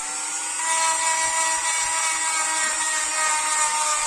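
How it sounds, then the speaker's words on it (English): Small rotary Dremel tool with sandpaper fine-sanding the edges of a Kydex plastic knife sheath, a steady high-pitched whine that holds constant and close throughout, alone with no talk. "For fine sanding I use a Dremel with sandpaper."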